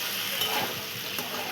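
Bitter gourd stir-fried in a kadhai gives a steady sizzle with scraping and turning sounds from the spatula, close and even throughout, with no talk.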